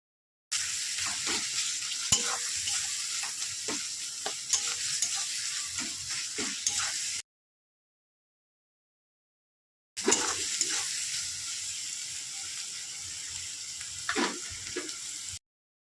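Spicy potato curry (aloo dum) being stirred and sautéed in a pan, with soft sizzling and scraping stirs in two stretches separated by a silent gap.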